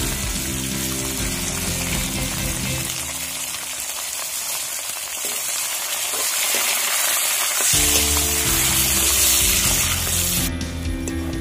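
Chopped tomatoes hit hot oil with browned onions in a pan, giving a loud, close, steady frying sizzle that dips briefly mid-way and then surges back strongly.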